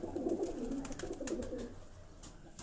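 Pigeons cooing in low repeated burbling calls, fairly close, over a soft background with faint clicks and rustle.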